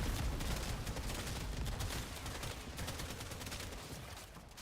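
Cedo weapon firing in Warframe, a dense continuous roar of rapid gunfire and impact noise that stays loud and steady throughout and eases slightly toward the end.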